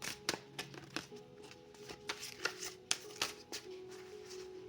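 Tarot cards are shuffled loosely by hand, producing a run of close, quiet riffling and slapping bursts in an irregular rhythm over a soft background.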